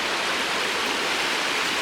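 A river rushes steadily nearby, a broad, even hiss of flowing water with no pauses and no voices over it.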